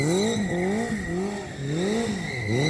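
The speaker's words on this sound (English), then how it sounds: "here's some footage of drifting." A motorcycle drifting, its engine note swinging up and down in repeated waves as the throttle is worked, with a constant high tyre squeal running over it, loud and close.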